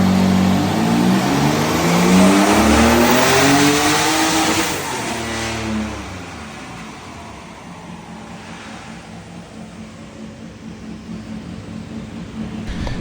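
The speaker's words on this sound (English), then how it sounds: "We're at my dyno, got the drift car here," Turbocharged drift car strapped to a dyno, its engine revving hard and climbing in pitch for several seconds, then easing off to a rough, lumpy idle; loud and close, with no talking.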